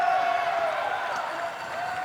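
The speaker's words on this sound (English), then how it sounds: "Listen to that crowd." Crowd cheering and applauding at a men's class 2 para table tennis singles final, a steady roar of many voices close around, sustained at an even level without pause.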